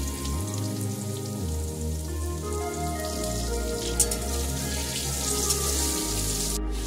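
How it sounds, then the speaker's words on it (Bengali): Potatoes frying in mustard oil with salt and turmeric, cooked for a Bengali mutton kosha, give a loud, continuous, close-up sizzle and crackle that runs evenly throughout without any voices. "এবার আমি আলুগুলো ছেড়ে দিচ্ছি তেলে, অবশ্যই সর্ষের তেলে করবে"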